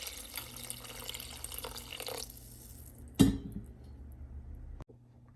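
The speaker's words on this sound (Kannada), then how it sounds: "ಈಗ ಇದಕ್ಕೆ 1-2 ಕಪ್ ಆಗಷ್ಟು ನೀರು ಹಾಕ್ತಾಯಿದ್ದೀನಿ." Water is poured into a cooking pot of frying bottle gourd and lentil sambar, a steady splashing stream for about two seconds, then a sharp clatter and quieter dripping, recorded close with no talking.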